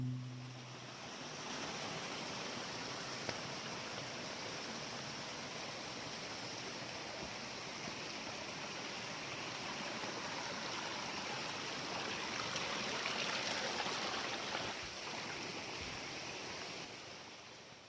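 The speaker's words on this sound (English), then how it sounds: "You can probably hear the creek in the background" A forest creek flows steadily in the backcountry of Deep Creek, a continuous broadband rush of water close by that persists alone for the whole stretch, with no talking over it.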